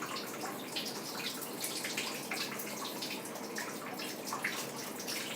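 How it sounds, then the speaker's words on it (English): Water hisses in a fine, steady spray onto soil in a turtle nesting area, soaking the ground with a continuous close splatter and no voices. "what I do is I spray it down really well"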